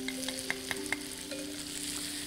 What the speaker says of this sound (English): I don't want to scorch the dry spices that are going in right now